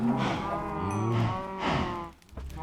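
Cows moo in a video game, several long drawn-out lowing calls overlapping one after another, loud and close, with no talk.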